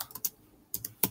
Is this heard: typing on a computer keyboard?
yes